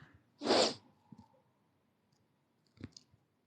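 A single sharp sneeze bursts out near the start, followed by quiet room tone and a few soft clicks and rustles later on.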